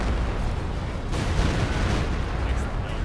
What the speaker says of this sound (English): There's another Stuka barrage for the buildings.